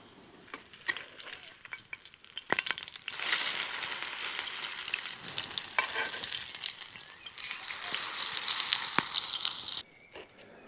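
Potato pancakes fry in a pan over a wood fire at a forest campsite, giving a steady close sizzle with scraping and crackle that swells midway and cuts off abruptly near the end.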